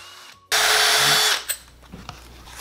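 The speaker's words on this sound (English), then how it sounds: "I'm gonna try to pin them all together and drill through all of them at once." A power drill whines steadily for under a second as it bores through wood, followed by a few scattered knocks and clatters.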